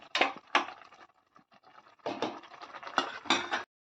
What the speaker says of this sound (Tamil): ஒரு மூடி போட்டுக்குவோம்